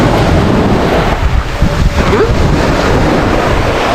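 Sea waves wash in at a beach in a loud, continuous roar of surf, mixed with heavy wind buffeting close to the microphone.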